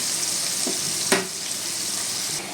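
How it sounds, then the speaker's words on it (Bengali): Steady sizzling of shrimp frying in hot oil fills the clip, with a brief clink of a utensil partway through; no voices. "চিংড়িটা কম আছে ভাজা হতে থাক"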